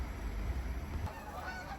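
Wild geese honk outdoors as a flock flies overhead, the calls faint and distant over a steady low rumble of background noise.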